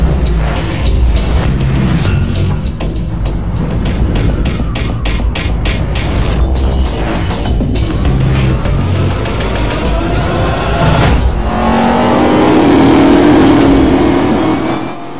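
A Ford GT's engine roars continuously during a race in Need for Speed Most Wanted, loud and close, with revving surges and gear changes that swell near the end.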